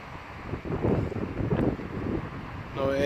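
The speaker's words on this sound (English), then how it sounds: "the wind is making the presentation really, really hard." Gusting wind buffets the microphone on a riverbank beside the River Weaver during short-pole float fishing, a steady low roar swelling and easing throughout, with a brief tonal sound near the end.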